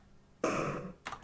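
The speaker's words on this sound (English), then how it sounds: "that is the sound of Poppy sniffing" A cat sniffing, recorded very close, reversed into a snare drum sound: one breathy noise burst that swells and cuts off, followed by a shorter second burst.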